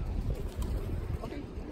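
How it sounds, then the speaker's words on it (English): Pigeons gather and coo in a low, steady murmur on a street during a trip through Poland and Ukraine, with people talking over them close by. "Here, pigeons."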